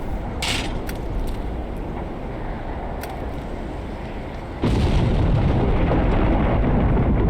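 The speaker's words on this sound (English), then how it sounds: "An actually delayed explosion sound in a game for once." Delayed explosion in the video game Black Mesa: ambient rumble with a few sharp clicks, then a sudden loud blast that sets off a sustained roaring rumble, no talk.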